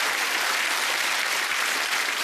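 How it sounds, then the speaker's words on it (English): A television game show studio audience applauding, a dense, even wash of clapping that stays loud and steady throughout, with no one speaking over it. "A little applause."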